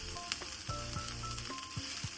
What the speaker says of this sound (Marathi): आपला कांदा छानपैकी थोडासा पिंकिश कलर आलेला आहे। एक 5 मिनिट आपण याला फ्राय करूया।